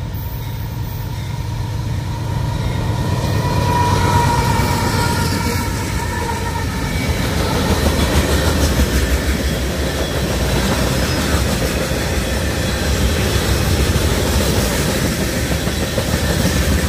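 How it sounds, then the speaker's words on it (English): A train passes close by, its rumbling wheels and clickety-clack on the rails swelling loud and staying steady, with a faint squeal early on and no talking. "There's a train coming."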